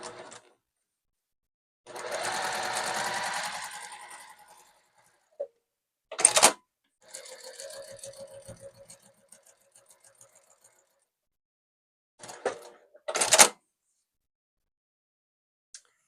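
A sewing machine stitches quilt block pieces in short bursts of steady whirring mechanical hum, separated by silences and sharp clunks as the fabric is handled and the thread is cut.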